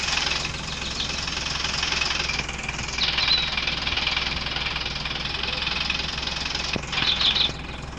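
A stuck vehicle's engine runs steadily at close range, a rough knocking idle with a brief rise near the end.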